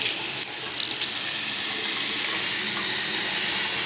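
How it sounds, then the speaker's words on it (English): Tap water runs steadily into a sink during face washing, a close, continuous hissing splash with brief splashy disturbances near the start as hands move through the stream. "Put some water on your hand and wash your face."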